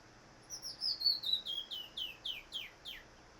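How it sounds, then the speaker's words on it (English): A single bird sings in bright sunlight in central Mexico, close by: a clear, high warbling phrase followed by a run of about six evenly spaced, descending chirps over a quiet background. "So these birds singing in the sunlight here in central Mexico"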